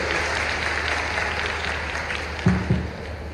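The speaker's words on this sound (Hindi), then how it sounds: "जोरदार ताली बजाओ अपने उस बच्चे के लिए" A crowd at a tribal community gathering addressed by a chief minister applauds for a poor family's child going to study in London, a steady wash of clapping with a couple of louder thumps near the end.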